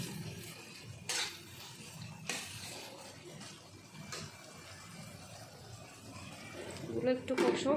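A spoon stirs dry chillies, cumin, coriander and garam masala in a pan on a low flame, making soft scraping and clinking strokes with occasional louder knocks. A voice can be heard faintly in the background.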